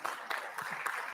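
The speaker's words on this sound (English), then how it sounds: "Hey, this deserves an applause" Brief, fairly faint applause from the audience at an international Sri Sathya Sai conference in Nairobi, a steady wash of clapping with no voices standing out.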